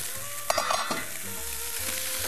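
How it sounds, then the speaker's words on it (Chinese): Grouper fish pan-frying in a hot pan, with a brief burst of clatter and spatter early on, then a steady low sizzle that carries on to the end, no voices. "我们这个煎它， 龙胆石斑很少人拿来煎"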